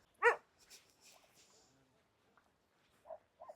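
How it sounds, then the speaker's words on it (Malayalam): A dog gives one sharp bark up close, followed by softer whimpers and yips in a quiet outdoor village setting. "അയ്യോ പട്ടി"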